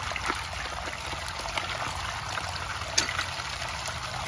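Water trickles into a hand-dug hole in hard, compacted, root-filled soil, a faint steady dribble close by with small splashes and scrapes, and no voices.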